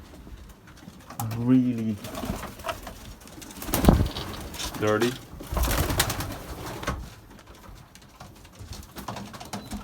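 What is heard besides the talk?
racing pigeons cooing in a loft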